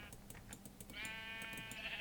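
A Minecraft sheep bleats in a modded survival game, one clear wavering bleat rising over faint repeated clicks and game sounds, no voice.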